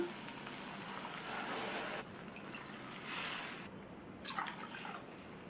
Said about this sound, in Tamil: ரவை எடுத்த கப்லேயே 3 கப் தண்ணி சேர்த்துக்கலாம்